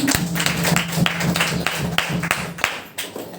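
A church congregation claps together in praise of God, a brisk run of rhythmic, closely spaced claps that fills the room for a few seconds.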